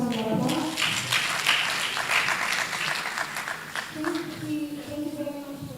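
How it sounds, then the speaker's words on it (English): Applause fills the hall from the audience at a school debate between secondary schools, loud and continuous, with a voice speaking over the clapping toward the end. "The audience can really give a thunderous round of applause."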